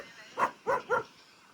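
A police dog gives three short, sharp barks in quick succession, moderately close, then falls quiet.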